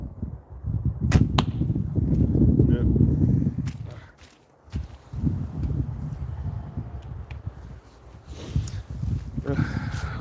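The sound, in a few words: archery arrow shot at target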